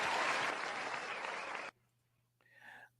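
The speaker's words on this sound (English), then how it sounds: "Ladies and gentlemen, give a round of applause." A round of applause for a football linebacker comes as dense, loud clapping for about a second and a half, then stops abruptly, and a brief voice follows.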